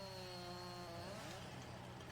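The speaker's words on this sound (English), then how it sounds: "We'll get out the chainsaw here" A chainsaw cuts through garden bushes during a landscape cleanup, its engine droning steadily close by, then shifting pitch as it bites into the growth.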